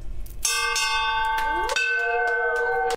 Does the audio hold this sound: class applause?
no